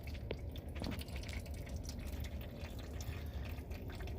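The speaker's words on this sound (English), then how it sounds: "I pull it out to the side, and it's all draining in here." Engine oil draining from a vehicle into a drain pan during a DIY oil change: a faint continuous trickle and splatter of liquid with occasional drips, steady throughout.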